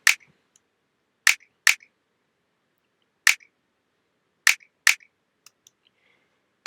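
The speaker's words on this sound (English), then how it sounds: "the next sample we have here is this snap, and alone it sounds like this." A finger snap sample played alone, sounding as six crisp, dry snaps spread unevenly across the stretch, each short and bright, with faint small clicks between them and no voices.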